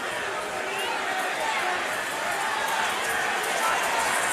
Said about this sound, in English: This is a crowd that's very loud.